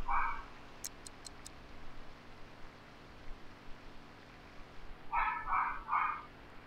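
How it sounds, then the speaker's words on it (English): A dog in the video game The Sims Medieval gives a short burst of barks at the start and another cluster of three or four barks near the end, moderately loud over a faint hiss. "That dog is getting on my nerves."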